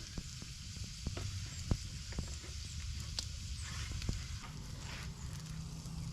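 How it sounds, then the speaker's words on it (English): Butter sizzles softly in a cast iron pan over a campfire while food sautés, a faint steady hiss dotted with small pops and clicks. "Saute those for a little bit"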